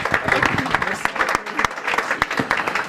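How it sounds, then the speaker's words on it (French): An audience at a French competition final applauds two winners, with many hands clapping unevenly and several sharp, close claps standing out, while some voices murmur faintly underneath. "on applaudit nos 2 gagnants"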